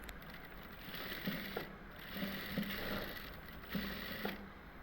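A sewing machine runs continuously while stitching a strip of lace onto the side slits of a shirt, a close, steady mechanical whir with faint rhythmic ticking.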